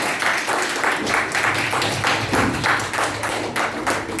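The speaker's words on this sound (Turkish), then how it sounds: "8A'yı temsilen Elif'e bir alkış gelsin" Classmates applaud during an end-of-term eighth-grade school quiz competition, a steady patter of many hands clapping in a room for about four seconds, with faint voices underneath.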